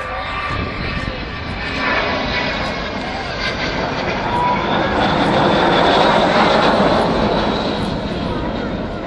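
Avro Vulcan XH558 delta-wing jet bomber in RAF squadron markings flying at the RAF Waddington airshow, a loud sustained engine roar swelling toward the middle, with a voice talking over it.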